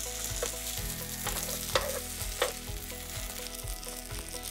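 Egg fried rice being stirred and turned on a hot plate, with a steady close sizzle and frying crackle and occasional soft scraping knocks of a utensil against the plate.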